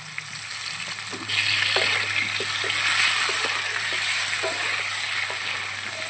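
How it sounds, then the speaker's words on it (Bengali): Potatoes with turmeric and salt frying in hot oil in a home kitchen, a steady close sizzle that swells slightly after the first second and holds, with faint stirring clicks and no talk. "আলুগুলো লাল করে ভাজা হয়ে গেছে আমি তুলে নিচ্ছি"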